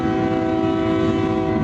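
A CSX freight train passes close by, a loud, steady rumble carrying a sustained tonal drone that holds throughout the short stretch, with no voices.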